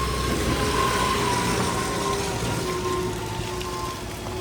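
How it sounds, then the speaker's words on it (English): Trailer arriving at a York tractor auction with its engine running, a steady low rumble with a few faint tonal whines under constant broadband noise. "Just got one other trailer turning up here, so excuse the noise."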